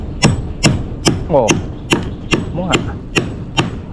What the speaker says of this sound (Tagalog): Yung martilyo ko.